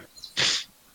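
A single sharp, loud sneeze bursts out alone over a quiet background during an online tabletop role-playing session, with a faint breath just before it.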